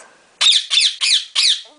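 A pet bird squawks four times in quick succession, each call loud, harsh and rasping, close by with short gaps between them and no talking.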